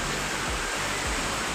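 Water rushing in a forest stream near Maldevta, Dehradun, a steady broadband wash of flowing water, close and continuous throughout.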